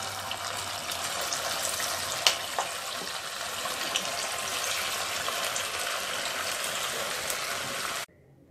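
Little millet vadas fry in hot oil, a steady dense hiss and bubbling crackle that holds evenly at close range and then cuts off abruptly near the end, with no talking.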